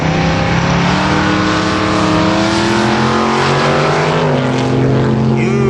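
At a drag race launch, a 1985 GMC Jimmy with a bolted-down hood and a Pontiac Firebird roar continuously and loudly, their engine tones shifting as they pull away.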